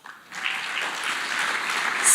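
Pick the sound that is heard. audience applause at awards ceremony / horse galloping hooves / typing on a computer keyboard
audience applause at awards ceremony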